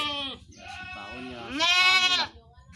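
Javanese randu goats on a livestock farm bleat loudly and close by, first one long wavering cry, then a shorter call and a stronger, higher bleat, with faint low rumble underneath.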